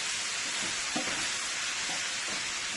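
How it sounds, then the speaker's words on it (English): Breakfast wrap filling fries in a pan with a steady, close sizzle and a few soft stirring scrapes, with no voices. "So I'm going to let this fry up for a little bit."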